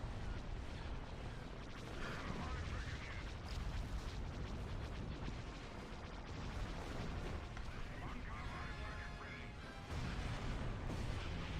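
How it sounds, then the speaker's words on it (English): Continuous heavy turbolaser blasts and booming weapon fire from a Star Wars space battle game, dense and rumbling, with a voice speaking over it. "they shoot turbo lasers too"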